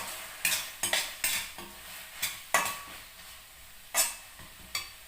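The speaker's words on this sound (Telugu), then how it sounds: "కరివేపాకు వేసేస్తాము" Curry leaves dropped into hot oil in a pan for an aloo masala curry, with a quiet sizzle under a series of sharp spoon clatters and stirring scrapes against the metal, about eight distinct knocks.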